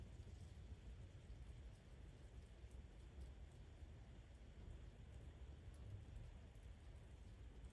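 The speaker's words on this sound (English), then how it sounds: "it's raining again now" Steady rain falls on a coastal birding spot during gusty wind, a continuous broadband wash with rumbling low end throughout, no voices.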